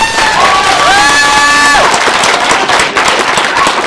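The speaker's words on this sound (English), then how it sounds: "Give these guys another round of applause." A crowd at a Texas Frightmare Weekend horror convention Q&A claps and cheers loudly after a sustained whistle-like tone fades, with dense, rapid clapping and shouts close by.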